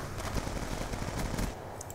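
Rapid automatic gunfire from the video game Call of Duty Black Ops 2, dense and continuous bursts filling the whole stretch at steady loudness.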